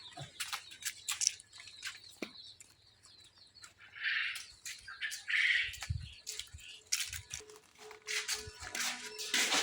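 Newly hatched quail chicks in an incubator give bursts of high squawking chirps, irregular and fairly close, with scattered clicks and faint background hum.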